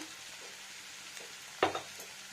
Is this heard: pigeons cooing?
no